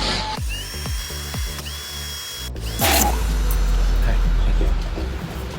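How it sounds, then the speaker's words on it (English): A power drill whirs in several short bursts, spinning up and winding down, followed by a longer steady run close by, boring screw pilot holes for pontoon gate lift hinges. "I'm just going to drill my pilot holes for my screws"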